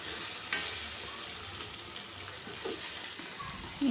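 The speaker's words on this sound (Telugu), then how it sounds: "మధ్య మధ్యలో కలుపుతూ ఉంటే కింద అంటుకోకుండా ఉంటుంది." Ridge gourd curry sizzles and fries in a pan while a spoon stirs through it, a steady close-up sizzle with occasional scraping strokes and no talking.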